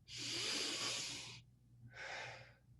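A calm demonstration of gentle, relaxed breathing during a breathing practice: one long, soft airy exhale followed by a shorter second breath, close and alone with no talk.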